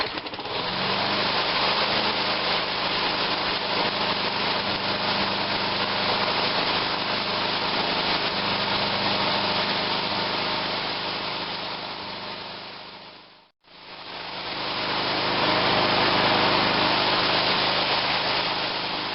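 A Toro Personal Pace lawn mower engine runs close and steady at a high idle, briefly cutting out for a moment before picking back up and running on.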